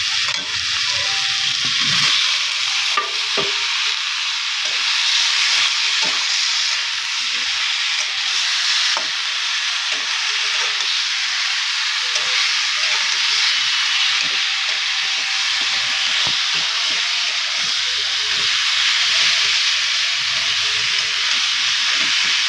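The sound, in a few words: frying cut eggplant (brinjal) in a pan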